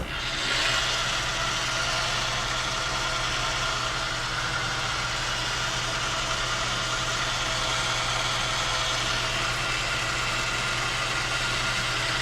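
A metal lathe runs steadily while facing off a washer cut from 3/4 inch stock, a constant machine hum with a low tonal drone and faint high cutting hiss, no talking.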